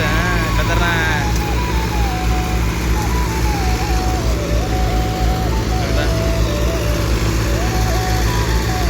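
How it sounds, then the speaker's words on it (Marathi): A tractor stuck deep in mud runs with a loud, steady engine drone and a wavering higher tone while it is hauled out, continuous and close throughout. "बघू शकता झाले ट्रॅक्टर चालू आता"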